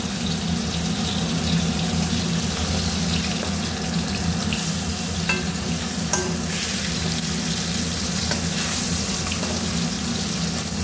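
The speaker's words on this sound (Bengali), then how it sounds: "মাছটা একদম হালকা ভাজা, এপিট আর ওপিট।" Hilsa fish fries lightly in oil in a home kitchen, turned to cook on both sides, giving a steady, close, continuous sizzle with no pauses and no voices.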